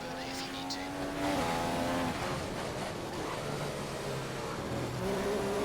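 A Formula 1 race car in a video game at the Spanish Grand Prix accelerates out of a corner, its engine note rising in steady harmonic sweeps under continuous commentary talk.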